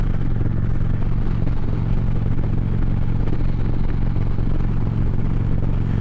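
A motorcycle on a 4th of July road ride, its engine running steadily with a loud, constant low rumble and wind noise throughout, close to the rider, no voices.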